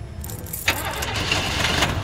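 A car engine cranks and catches, then settles into a steady idle, preceded by a brief jangle of keys, in a scene from The Walking Dead Telltale video game, Season 2.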